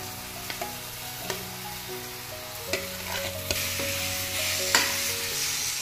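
Masala with mashed vegetables being sautéed for pav bhaji, a soft steady sizzle broken by occasional spoon scrapes and clinks against the pan, with faint background music and no speech.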